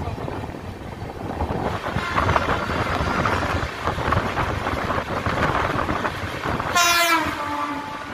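A passenger train runs past Sitarampur Junction in India, a loud continuous rumble and rattle of wagons, then a sharp horn blast near the end, close and without talk.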